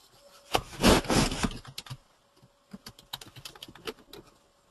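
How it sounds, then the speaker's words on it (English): Close computer keyboard typing during an Oracle Applications technical class, starting with a dense, loud burst of keystrokes and then a slower run of separate clicks, with no talking. "I'm just clicking on F4."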